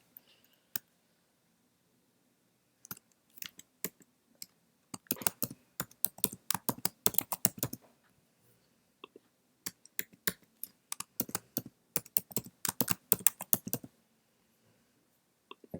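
A computer keyboard clatters as a password is typed, in quiet, close bursts of rapid key clicks separated by short pauses, with no talking.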